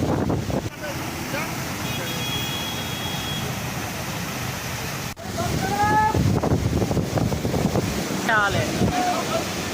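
Water from a badly burst pipe gushes across a road, a steady broad rush of spray and flow running throughout, with wind buffeting the microphone, a passing vehicle and someone speaking briefly near the end.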